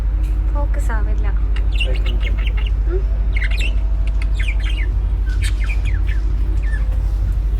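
Caged lovebirds squawk and chirp in short, irregular bursts over a steady low hum, with voices faintly in the background.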